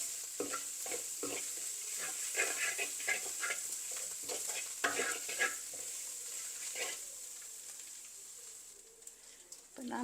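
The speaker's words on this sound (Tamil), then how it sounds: "இப்போ கொஞ்சம் ஃப்ரை பண்ணி கொண்டு வரப்படி நெருப்பை குறைச்சிட்டேன்." Dried baby prawns crisping in a pan on lowered heat, a soft continuous sizzle with intermittent scraping stirs, fairly quiet and close.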